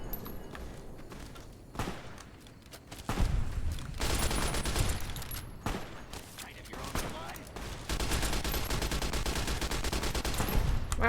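Gunfire from a weapon in the video game Fallout New Vegas, heard as bursts of rapid shots mixed with game music and effects while a person talks over them now and then.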